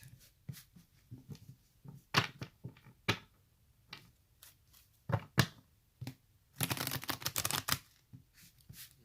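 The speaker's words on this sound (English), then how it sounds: "I'm just going to go ahead and shuffle the cards" Tarot cards are shuffled in sharp papery riffles and flicks, a scatter of quick snaps and a longer dense burst of card shuffling, close and fairly quiet with pauses between.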